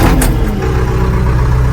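The diesel engine of a JCB backhoe loader runs steadily on private property, a loud, close, continuous low rumble with a brief higher noise near the start and no talk.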